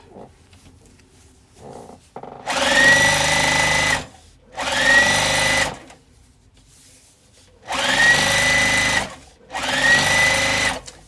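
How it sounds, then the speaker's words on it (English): A sewing machine stitches a vintage cotton crossbody bag strap in four loud, close bursts of rapid whirring, each lasting about a second and a half, separated by quiet pauses. "I'm just sewing up the strap"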